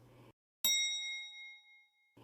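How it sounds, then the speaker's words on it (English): An elevator bell gives a single bright ding as the lift door opens, ringing clearly and decaying slowly over about a second and a half in near silence. "It was a bell."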